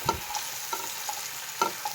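Egg frying in a pan, a steady crackling sizzle with a few sharp spatula scrapes and stirs recurring through it; no talking.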